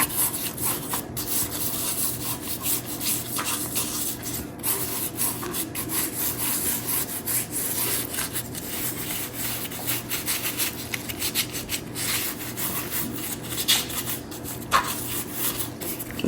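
Hands rub salt seasoning into a raw pork chop with a steady, close, gritty scrubbing and rasping that continues without pause, with no talking.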